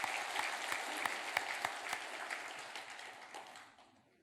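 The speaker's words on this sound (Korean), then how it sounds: "한 번 더 큰 박수 한번 드리겠습니다." Church congregation applauding at a Korean Sunday worship service, a dense wash of many hands clapping fairly loud and steady, then thinning and fading toward the end.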